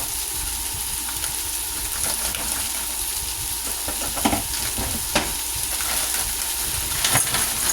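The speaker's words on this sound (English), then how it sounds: "I'm going to cook the squash now with it." Squash cooks with potatoes and onions in a pan, a steady loud sizzle with occasional scraping stirs and clicks throughout.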